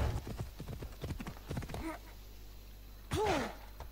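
A horse in the video game Assassin's Creed Odyssey trots with quick, even clip-clop hoofbeats for about two seconds, then stops and gives a short breathy whinny.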